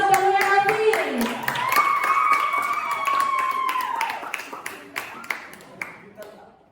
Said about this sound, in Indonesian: Beri tepuk tangan untuk Bang Raffi.